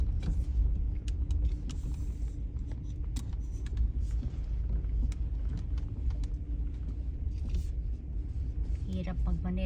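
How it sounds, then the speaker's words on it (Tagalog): A vehicle drives over a rough, bumpy road on the way to a truck yard, its steady low rumble running throughout at close range, with some brief rattles and knocks. "Hirap magmaneho pagka ganitong rough road."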